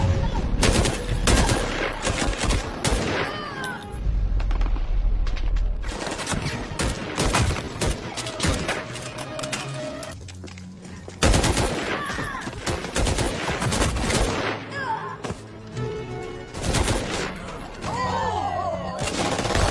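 Sustained gunfire in a one-against-many shootout from the film Seized, loud rapid volleys and bursts continuing through the scene with occasional crashes.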